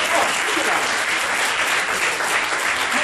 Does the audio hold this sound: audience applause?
yes